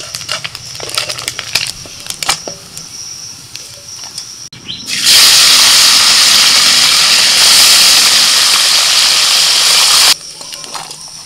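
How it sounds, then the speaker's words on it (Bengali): Quiet kitchen clatter, then a loud, sustained sizzling hiss as small mourala fish hit hot oil, holding for several seconds before dropping back abruptly. "মাছগুলোকে এপিট ওপিট উল্টে ভেজে নিয়ে তুলে নিচ্ছি"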